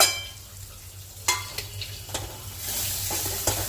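Onion, ginger and garlic with ground turmeric, cumin and coriander being sautéed in a pan for a prawn malai curry: a steady close sizzle with several sharp spatula scrapes and stirring clatters, no voices.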